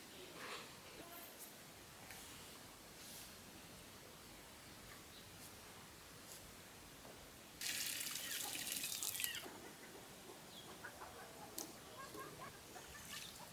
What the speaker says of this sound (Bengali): পেঁপে আর মুরগির মাংস ধোয়া শেষ